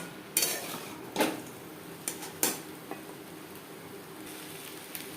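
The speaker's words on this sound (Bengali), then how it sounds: "পেঁয়াজ টমেটোর সাথে মাছ বেশ ভালো করে মিক্সড করে দেব" A utensil scrapes and clatters in a pan while fried puti fish is stirred together with onion and tomato, a few distinct knocks against the pan over a faint cooking hiss.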